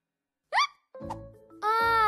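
A hiccup in a children's cartoon rings out as a short, high squeak, and after a pause come low tonal sounds and a brighter, sustained cartoonish tone.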